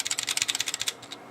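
Steady typing on a keyboard fitted with lubed Zilent 67g switches, a quick run of close, crisp muted clacks at an even rhythm, slowing briefly before a final burst of keystrokes.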